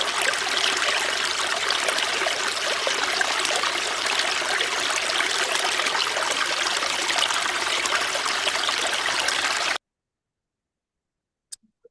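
Flowing water used as an exhibit sound effect for a state engineer display, a steady close trickling stream that runs alone for about ten seconds, then cuts to silence with a few faint clicks.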